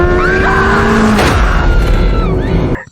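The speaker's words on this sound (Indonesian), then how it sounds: "Dalam hitungan detik, motor itu menabrak mobil di depannya dengan keras." In a horror film sound effect, a loud motorbike engine roars alongside squealing, skidding tires, then cuts off abruptly in a sudden impact as the bike crashes into a car.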